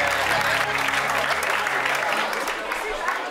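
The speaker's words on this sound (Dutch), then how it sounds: "mag een groot en ovationeel applaus" A concert audience bursts into loud, dense applause welcoming the band onto the stage, a steady wash of many hands that continues without a break and slowly eases toward the end.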